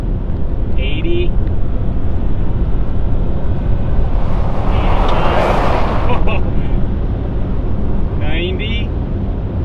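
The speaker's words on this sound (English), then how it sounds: "This is really weird to be driving this fast on dirt." A Toyota Tacoma truck on 285 tires drives at high speed on a dirt road, giving a loud continuous roar of road and wind noise. A few brief sharper bursts stand out along the way.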